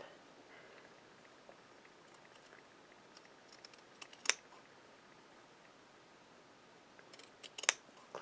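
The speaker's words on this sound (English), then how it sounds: "I'm clipping my seam allowance now in half." Scissors clipping the fabric seam allowance at a sewn corner of a garment facing and collar, with two crisp snips heard faintly in a quiet room and a few soft ticks before them.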